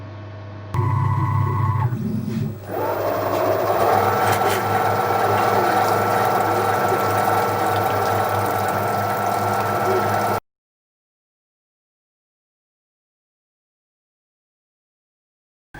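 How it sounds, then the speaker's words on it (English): End mill cutting a dovetail slot in metal for a DIY lathe tool holder, a steady close machine whine with a rough cutting drone that runs continuously, then stops abruptly into silence. "I clear out the majority of the metal with a standard end mill"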